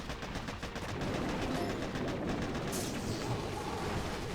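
Rapid gunfire and explosive thuds from mortars and troops in the mobile strategy game Boom Beach Warships, a dense continuous clatter of shots that stays loud throughout with no talk over it.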